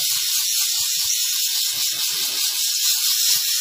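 A steam car-washing machine hisses steadily and loudly while cleaning a dirty car seat cushion, a constant close blast, with someone speaking briefly underneath.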